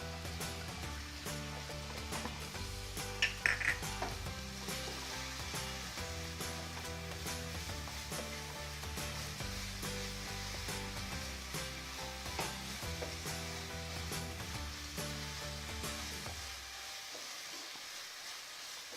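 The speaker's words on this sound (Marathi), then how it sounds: "आपण आता यामध्ये आपण जी प्युरी करून ठेवली आहे ती टाकूया" Minced meat fries in a pan as tomato puree is added for kheema masala, a steady crackling sizzle heard up close beneath music for most of its length, with a few louder stirring knocks and no speech.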